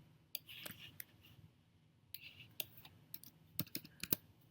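Keys click on a computer keyboard in short irregular bursts of taps, close and quiet, with small gaps between clusters.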